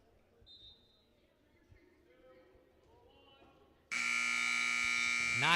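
At a Hofstra vs. Cal Baptist college wrestling match, a quiet arena murmur gives way to a loud, sustained electronic buzzer ending the period, held for the last two seconds.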